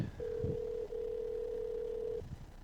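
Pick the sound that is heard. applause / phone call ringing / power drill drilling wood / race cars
phone call ringing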